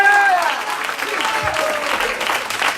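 A church congregation applauds during a sermon, with loud clapping that fades slightly and then keeps up under a voice and brief vocal tones near the start.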